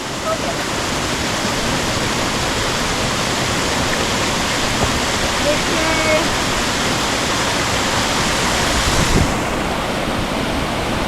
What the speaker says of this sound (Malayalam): ചെറിയൊരു വെള്ളമൊഴുക്കാണ് പക്ഷെ നല്ല തണുപ്പുള്ള വെള്ളമാണ്